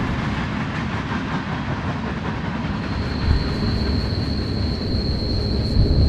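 Freight train cars rolling on rails during a hobo ride in Mexico as the train slows into a curve, giving a loud, steady clickety-clack and rumble close by, with a thin high squeal joining partway through.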